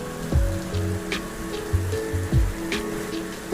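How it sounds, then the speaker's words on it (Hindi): Steady rain patters in the background, soft and even, with a few low thumps and knocks scattered through it. "वैसे भी बारिश नहीं रुक रहा"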